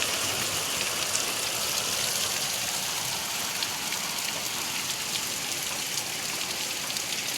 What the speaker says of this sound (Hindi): बाहर देखो इतनी ज़्यादा बारिश हो रही है